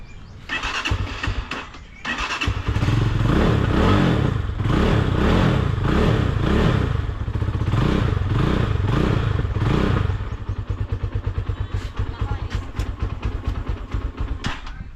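A motorcycle engine cranks and catches in cold weather, running roughly with a pulsing, uneven idle before cutting out, then sputtering with rapid clattering bursts as it struggles to stay running, loud and close.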